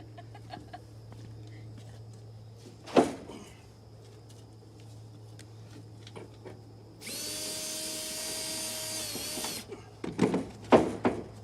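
A power drill whirs steadily for about two and a half seconds as it drives screws into boards on a brand new Texas Bragg trailer, between sharp clanks and knocks of the repair work, with a low constant hum underneath.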